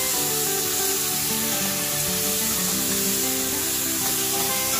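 Amla and green chili paste sautéing in hot oil, a dense, loud, continuous sizzling hiss with a steady hum beneath, no voices.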